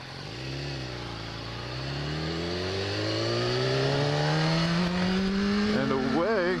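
BMW S1000RR sport motorcycle, 2013, accelerating away, its engine note climbing steadily through the gears, loud and close with a brief rev change near the end and some talk over it.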